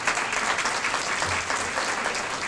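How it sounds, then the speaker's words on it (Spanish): A training seminar audience breaks into steady, continuous applause, a dense wash of many hands clapping at moderate distance with no talking. "let's give them a round of applause"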